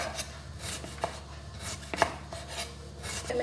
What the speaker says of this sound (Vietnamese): Mình cắt thật mỏng.